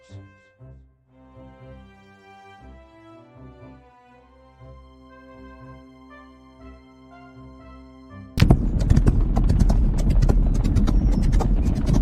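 Horse race in the video game Rival Stars Horse Racing at Parsons Valley: a soft musical intro gives way to a sudden loud burst of galloping hooves from the field, dense and continuous to the end.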